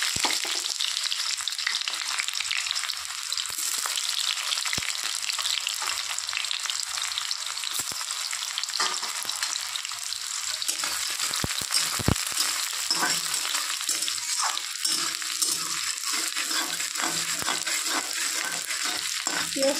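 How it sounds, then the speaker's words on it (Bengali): Onions frying in a pan with a few white cumin seeds, a steady close, loud sizzle lasting throughout with occasional stirring scrapes and clicks, no voices. "পেঁয়াজটা একটু ভেজে নেব।"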